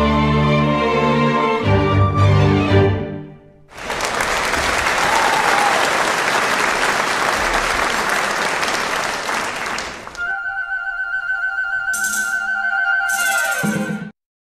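Applause from a crowd plays on an audio track in an editing session, a dense sustained clapping roar framed by musical tones before and after.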